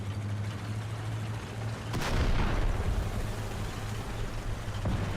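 A tank explodes in the video game War Thunder, a Tiger blowing up and destroying a nearby M18, giving a sudden deep boom over steady engine rumble, followed by a lingering roar and a smaller thud near the end.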